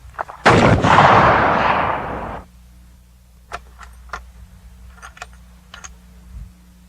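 A rifle is fired once at a long-range target across brush outdoors. One loud, sharp report is followed by a long rolling echo, and then a few faint mechanical clicks and handling sounds can be heard nearby.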